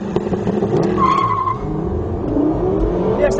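A V8 Mercedes SLS 63 and a V10 Lexus LFA launching side by side in a drag race, with loud, close engines roaring and rising in pitch, plus a brief tire squeal as they accelerate.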